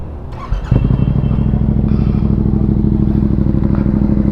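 A 2009 Kawasaki ZX-6R sport motorcycle engine idles steadily and close by, a low, even throbbing rumble after a short clatter at the start, with a noisy tensioner.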